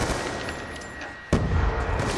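Call of Duty Black Ops 2 gunfire sounds as steady, dense rattling shots, then one louder burst or impact that makes the firing fuller and heavier.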